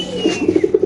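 A male racer pigeon coos in a quick run of soft, throaty pulses, close and clear with no talking.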